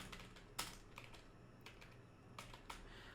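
Keystrokes on a computer keyboard while entering a line of text into a CSS code editor, a few sharp clicks spread irregularly over a quiet room hum, with a small cluster near the end.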